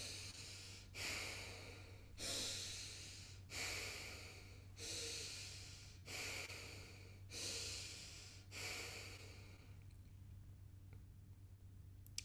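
Slow deep breaths during a guided meditation, eight rising and falling inhale-exhale swells at a calm, even pace, close and intimate over a low steady hum, then quiet.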